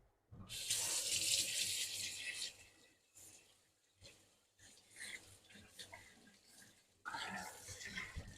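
A kitchen tap runs while an item is rinsed during gluten-free crêpes Suzette preparation. A loud gush of water comes first, then quieter splashing and handling, and the stream surges again at the end.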